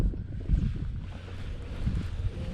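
An outboard motor on a fishing boat runs steadily in strong wind, its low engine drone mixed with gusty wind buffeting the microphone, with no talk.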